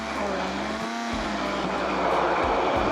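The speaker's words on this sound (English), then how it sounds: "salt, and then we blend." Blender whirring steadily through a miso marinade of minced garlic and salt for glazing Brussels sprouts, a loud continuous motor drone with brief dips in pitch, heard alone.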